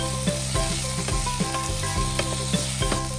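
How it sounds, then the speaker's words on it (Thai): Chinese sausage stir-fried over medium heat sizzles steadily in the pan, close and continuous, with regular scraping strokes of the spatula about every half second. "ใส่กุนเชียงลงไป และผัดไปเรื่อยๆนะคะ โดยใช้ไฟระดับกลาง"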